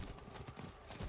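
Horse hooves of a mount in the video game Diablo 4 clip-clop at a steady trotting rhythm, soft and fairly distant, with no speech.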